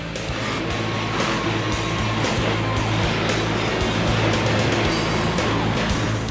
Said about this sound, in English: No longer doing the wrestling as much as she is driving this monster truck.